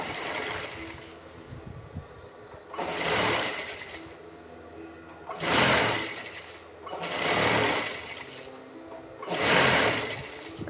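A sewing machine stitches a fall onto a saree in five loud, steady runs of whirring motor and needle, separated by short pauses. No one speaks.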